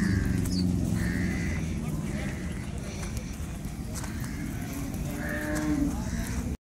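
HF dairy cows on a farm, with animal calls sounding intermittently over a steady low rumble of barn activity and movement; a voice is also faintly present.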